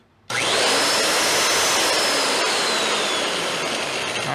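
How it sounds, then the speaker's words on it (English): A high-pitched electric drill motor whirs up abruptly and runs steadily at full speed, loud and close, with a faint sliding whine above it. "I just wanna see how fast the motor is."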